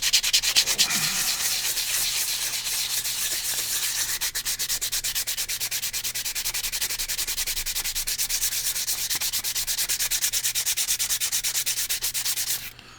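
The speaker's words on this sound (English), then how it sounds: "I'm going to grab my 150 grit sandpaper. and just pass it back and forth." Wet 150 grit sandpaper is rubbed back and forth over a metal box mod in quick, even strokes, a continuous close rasping rhythm lasting over twelve seconds with no talking.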